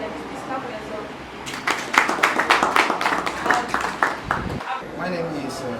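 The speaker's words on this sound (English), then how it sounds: "Clap for yourself." An audience at a tech community event applauds, a burst of dense clapping that swells for a few seconds and then tapers off, following a brief spoken prompt.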